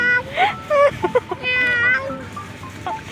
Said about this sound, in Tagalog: Oh, tinan mo, pusa.